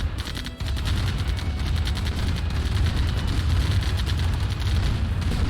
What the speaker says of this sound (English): Buggy's getting some shots as the bikes come through.